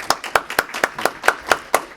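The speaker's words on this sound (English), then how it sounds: "a round of applause for you" Steady, evenly spaced hand claps, about four per second, close and crisp, like a small group applauding after an academic lecture on Persian poetry.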